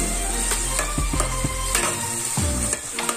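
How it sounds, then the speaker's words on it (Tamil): Chopped tomatoes sauté in hot oil in a pan for an egg curry, a continuous sizzle broken by scraping stirs and clinks of a spoon against the pan, with no voices. "இப்ப நம்ம தக்காளி ஆட் பண்ணிக்கலாம். தக்காளி நல்லா வதங்கிக்கலாம்."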